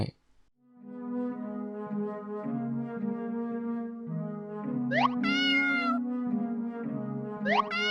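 Cat meowing in the video game Tales of the Black Forest, heard over a sustained tonal musical drone, with two rising meow-like cries near the end standing out clearly against the steady background.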